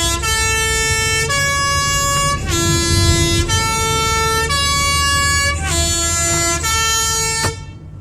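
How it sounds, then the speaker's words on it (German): Swiss PostBus (Postauto) three-tone horn sounding on a steep mountain hairpin road, loud and close, playing a repeating melodic sequence of sustained notes for several seconds before cutting off. "Und dann hupt er so."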